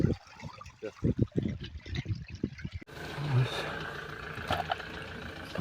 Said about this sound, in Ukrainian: поки що через верх, вода збігає